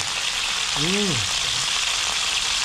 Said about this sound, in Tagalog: Mga huli nating ulang po. Ayan, niluluto na.